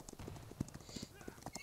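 Horse hooves clip-clop in the video game Holdfast: Nations at War, a quick, faint run of hoof beats with voices talking over it.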